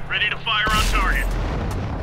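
A tank cannon fires in World of Tanks, a T23E3 in play, with one heavy broadband boom and a long rumbling tail. Earlier game voice lines and electronic tones sit under it.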